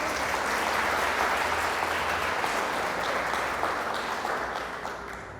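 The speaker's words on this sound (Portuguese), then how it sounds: "Uma salva de palmas para eles." A church congregation gives warm applause, a sustained, even wash of many hands clapping at moderate distance that gradually fades toward the end.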